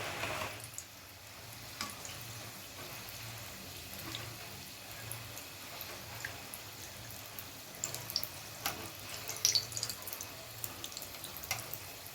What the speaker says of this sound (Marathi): गरम झाले आता पिठामध्ये आपण गोळा बुडवून थोडे सोडूया